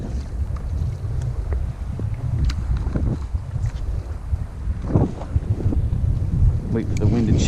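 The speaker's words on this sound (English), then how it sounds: "What is with this breeze?" A breeze blows steadily while kayak fishing on open water, a constant low rumbling wind noise buffeting the microphone, with water sloshing and a voice in the background.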